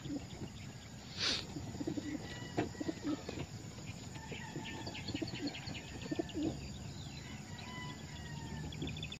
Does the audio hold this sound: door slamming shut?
no